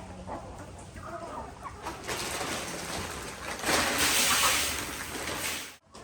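Several chickens cluck and chatter close by over a continuous noisy background, with bursts of louder activity toward the middle.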